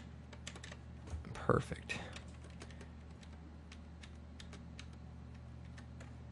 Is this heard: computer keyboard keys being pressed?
yes